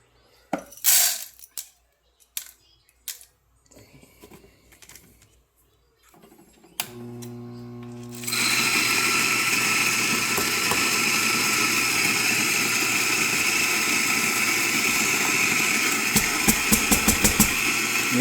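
Eureka Mignon Zero coffee grinder grinding espresso beans, a steady loud whir that starts after a few light taps and clicks and then runs on without a break.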